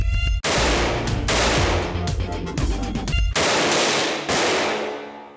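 Gunfire from a remotely triggered firearm aimed at a steel sheet target, several loud close blasts, each a sharp crack followed by a sustained ringing roar and echo.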